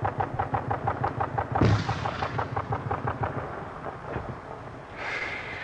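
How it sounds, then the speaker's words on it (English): Mortar round fired and exploding in a field cleared by bulldozer near Beirut, heard as a deep, heavy boom followed by a rolling, rumbling echo, distant and powerful, amid pulsing background noise. "Glad that's our mortar instead of them throwing something at us."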